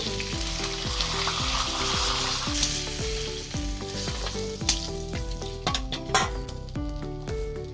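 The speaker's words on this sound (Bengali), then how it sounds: "বাকি মাছগুলো ভেজে নেব।" Pieces of a large black carp sizzle steadily in hot oil, a close, continuous frying crackle with occasional clinks of a utensil against the pan.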